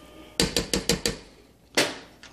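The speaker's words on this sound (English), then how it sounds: "Give it a quick stir." A spoon stirs quinoa in vegetable broth inside a metal pressure cooker pot, giving five quick, evenly spaced clinks against the side, a short pause, then one more close, crisp knock.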